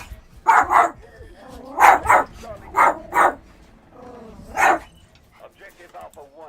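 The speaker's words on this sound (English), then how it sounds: "That's my dog, Extra." A pet dog named Extra barks nearby in a room where a shooter game plays, giving about six sharp, loud woofs in uneven bursts, with some game voices and low whines between them.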